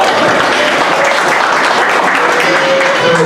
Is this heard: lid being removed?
no